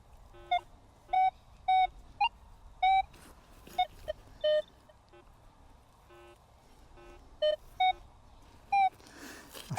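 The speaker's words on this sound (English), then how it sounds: "We'll just run the detector over it again." A metal detector sweeps over ground at a digging spot, giving short, clear tonal beeps in an irregular series, some repeated quickly and some spaced apart, over a quiet outdoor background.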